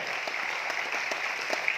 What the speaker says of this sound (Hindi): ताली बजाइए, आपके पास मौका है।